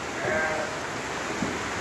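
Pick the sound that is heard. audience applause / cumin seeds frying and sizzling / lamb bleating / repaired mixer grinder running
lamb bleating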